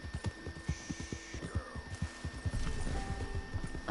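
Horse hooves clop in a fast, steady rhythm while riding in Red Dead Redemption, a close, repeating galloping beat over a low hum with faint ambient tones.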